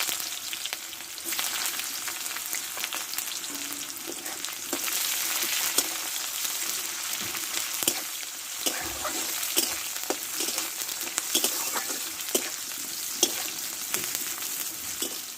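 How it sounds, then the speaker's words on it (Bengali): Thick-cut onion frying in hot oil gives a dense, even sizzle that runs throughout, with occasional light clinks of a spoon against the pan and no talk. "পেঁয়াজটা ভালো করে ভেজে নেবো"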